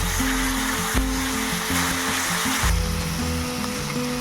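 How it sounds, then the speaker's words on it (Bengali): Tomato paste sautéing with spices in a pan, a loud dense hiss close to the pan, steady throughout with no talking, partly masked by a rushing wash-like noise. "দিয়ে মশলার সঙ্গে ভালোভাবে টমেটোটা কষিয়ে নেব"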